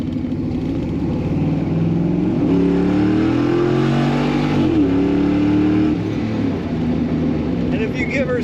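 A 1951 Ford F1 street rod truck's engine idles loudly and rises in a couple of throttle revs before settling, with a steady low rumble throughout.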